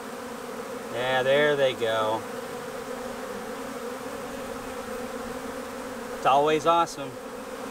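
A honey bee swarm drones in a steady, continuous buzz as the bees head into a hive box, and a nearby voice speaks briefly twice over the hum.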